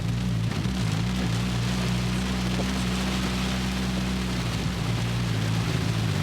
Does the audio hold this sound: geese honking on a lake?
no